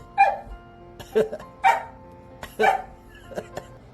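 A dog barks several times in short separate bursts, fairly close, with quiet pauses between the barks; a former fighting dog barking after years of silence.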